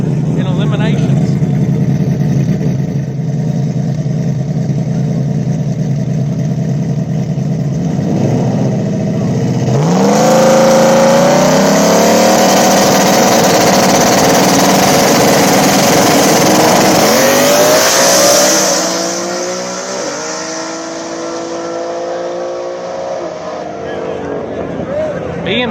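Drag race between a modular-motor Ford Fox body and a BMW-engined BMW on a drag radial strip, loud engines idling, then a roaring launch with climbing revs and gear shifts that fade as the cars pull away.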